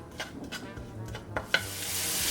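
Onions browning in a pan for Iranian-style spaghetti give a soft sizzle under a few scattered clicks and scrapes of stirring, then a steadier hiss swells toward the end.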